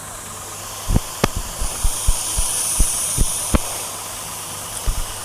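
A 2 HP agricultural pump rigged as a high-pressure car washer runs with a steady low hum and a faint spray hiss. A series of sharp clicks and taps sounds nearby.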